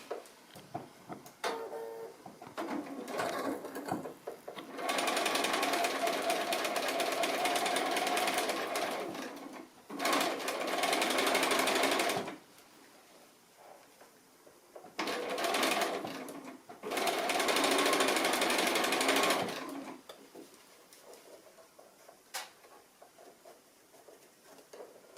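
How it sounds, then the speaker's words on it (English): A sewing machine stitches a chicken-shaped pin cushion in two long whirring runs, each broken by a brief pause, close and loud, with quiet handling noises between the runs. "So I'm going to go ahead and stitch that now"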